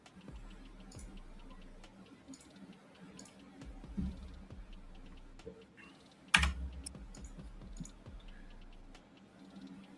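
Loud clacky typing on a keyboard, steady scattered keystrokes heard faintly in the background of a live futures trading stream, with one sharp louder clack midway over low room noise.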